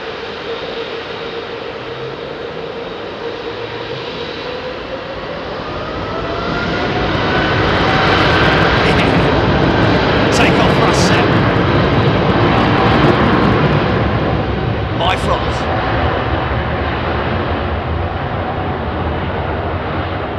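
An airliner departs Heathrow Airport at night, its jet engines a loud, sustained roar that swells as it climbs past and holds strong to the end, with a faint whine sweeping overhead.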